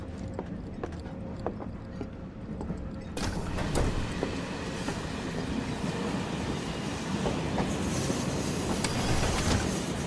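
A moving train in the video game Final Fantasy 7 Remake rattles with rhythmic clacking and a rumbling mechanical roar that grows louder after a few seconds and continues steadily.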